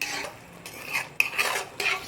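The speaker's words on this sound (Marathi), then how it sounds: "मिक्स करून घ्यायचं" A spoon or whisk stirs cooked dal in a pot for spinach dal on the stove, giving several close scraping strokes with a sharp clink partway through and no talking.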